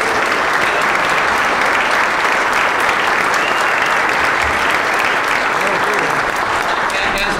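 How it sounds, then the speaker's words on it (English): Steady, dense applause fills a club room at a political event, a loud unbroken wash of many hands clapping at once, with no pauses over its length. "Give her a round of applause."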